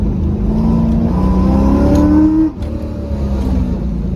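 A 2002 Chevrolet Corvette Z06 with long-tube headers, a modified exhaust and intake work revs loudly nearby, its deep rumble rising in pitch, then dropping briefly before settling into a steady throaty drone.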